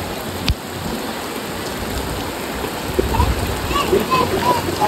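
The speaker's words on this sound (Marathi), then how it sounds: "बघितलं आम्ही बाहेर निघाल्यावर की पाऊस जोरातच येतोय" Heavy rain pouring outdoors, a dense, close hiss of drops splashing on surfaces that grows slightly louder toward the end, with a few sharper knocks and speech heard faintly under it.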